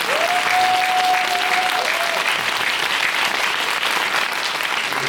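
A theater audience at a film screening and Q&A with the director bursts into steady, full applause, a dense wash of many hands clapping evenly throughout, with a brief high whistle near the start.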